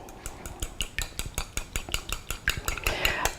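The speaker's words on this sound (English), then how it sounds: "And you can just beat the eggs with your" Two eggs beaten with a fork in a bowl, a rapid, steady clatter of metal tines against the dish, close and fairly loud, continuing throughout with no talk.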